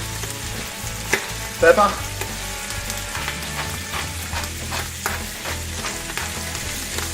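Oxtail pieces sear in a hot pan as salt and pepper go on, giving a steady close sizzle with a brief sharper crackling burst early on; a voice speaks a single short word.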